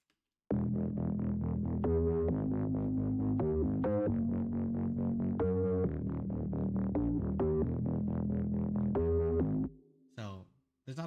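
A UKG-style bass from a Serum synth patch, a loud rhythmic pattern of sustained bass notes with shifting, pulsing tones and short gaps, cutting off near the end into a brief voice.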